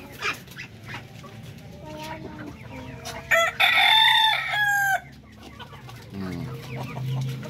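Darag native chickens in a Filipino yard, with soft clucking and a loud, close rooster crow in the middle, plus a dog and other birds faintly in the background.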